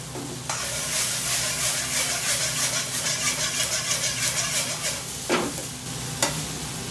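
Button mushrooms drop into a hot pan with onions and peppers for pilau rice and burst into a loud sizzle, kept going by repeated stirring and scraping, with a couple of sharper clanks near the end.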